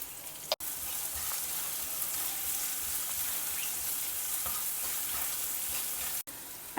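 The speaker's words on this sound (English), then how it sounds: "saute the onions well in the oil." Onions sautéing in oil give a continuous, fairly quiet sizzle that holds steady, cut by two brief dropouts, with no voices.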